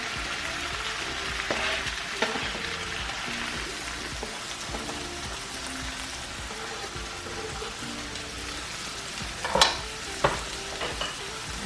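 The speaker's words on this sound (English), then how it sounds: "We're going to take our tomatoes now. Put in the pan." Tomatoes frying in olive oil in a pan for huevos mexicanos make a soft, continuous sizzle with occasional clinks and a louder clatter near the end as the pan is stirred or shaken.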